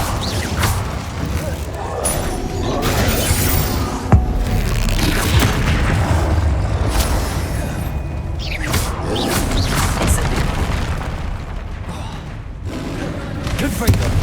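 Incendio fire spell in the Hogwarts Legacy video game, with repeated booming whooshes and crashing impacts across a loud, continuous battle mix, with voices shouting over the action.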